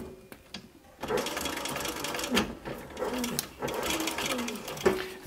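A sewing machine runs a decorative top stitch on a leather sun visor, a close, steady whirring that starts after a second and continues with slight speed variations.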